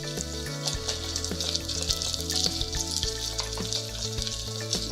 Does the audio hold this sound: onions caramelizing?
yes